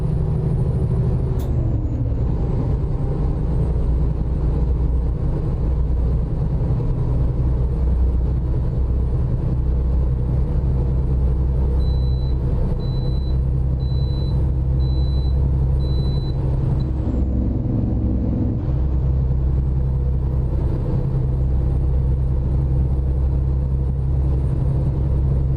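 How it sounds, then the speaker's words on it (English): Truck engine in American Truck Simulator running with an aftermarket sound mod: a continuous low, heavy rumble held steady throughout, with a brief hiss and faint high tones over it, no speech. "that F-Mod is going to give us more realistic engine sounds"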